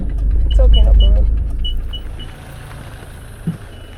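A camper van reverses into a parking spot in hot Greek weather, its engine rumbling low and loud while a string of evenly spaced high reversing beeps chirps several times, then fades to a quieter idle with a brief thump.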